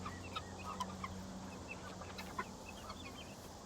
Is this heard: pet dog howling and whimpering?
no